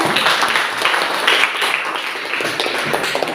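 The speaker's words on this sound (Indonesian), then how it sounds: "beri tepuk tangan buat Bapak" Applause from an audience at a teaching-practice presentation in a classroom, a dense steady patter of many hands clapping close by for about three seconds, with no voices over it.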